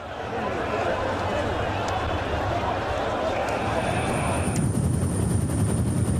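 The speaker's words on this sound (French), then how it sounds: "Une vingtaine d'hélicoptères survolent le périmètre en permanence." Around twenty helicopters circle over a security perimeter at a pilgrimage, making a continuous low rotor drone and whir mixed into a loud crowd roar, with voices talking over it.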